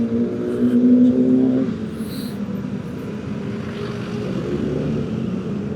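A BMW motorcycle passing on the road, its engine swelling loud and near before easing off into a steady background road rumble.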